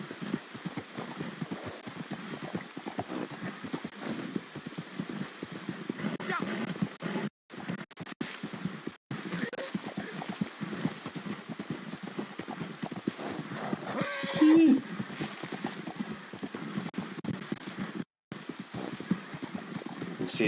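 Rhythmic hoof clip-clop of a horse ridden zigzag across uneven terrain in Red Dead Redemption 2, moderately close, with a brief whinny near the middle and a few short gaps.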